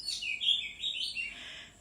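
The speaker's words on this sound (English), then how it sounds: "I think the birds around here, they're so active. They just want to be in this podcast with me." Small birds chirp and tweet outdoors in a quick, continuous run of high calls, fairly faint and with no talking.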